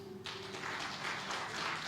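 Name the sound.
audience applause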